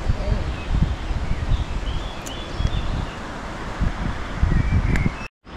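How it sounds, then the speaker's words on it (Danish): Wind blowing outdoors during a rain shower in the mountains near Oetz, Austria, with gusty rumbling and buffeting on the microphone, faint bird chirps on top, and a brief cut near the end. "selvom det blæser lidt her sammen med regnbyen også"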